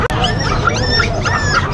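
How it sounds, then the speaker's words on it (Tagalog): Dogs for sale at a busy dog market in the Philippines, whimpering and yipping with short high-pitched cries over a dense, noisy crowd background. "tignan natin yung mga binibentang aso ni Boss Dante"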